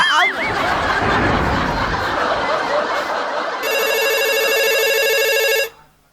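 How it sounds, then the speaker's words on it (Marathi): Mobile phone ringing with an incoming call during a Marathi stage comedy show. Audience laughter and noise come first, then a loud electronic ringtone plays for about two seconds and cuts off abruptly. "बायको कॉलिंग."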